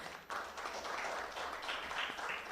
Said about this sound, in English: I think we can clap together for both the teams.